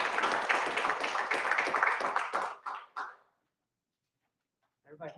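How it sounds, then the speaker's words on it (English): Applause for Citizens Academy graduates at a city council meeting, a dense burst of many hands clapping that fades out after about three seconds, followed by silence and then a brief renewed patter. "One last round of applause for all of our Citizens Academy graduates"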